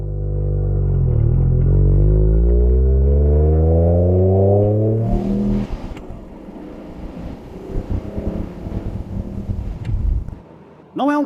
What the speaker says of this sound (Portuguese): Já que estou no meu cruzamento de sempre, vou acelerar e testar como ela reage.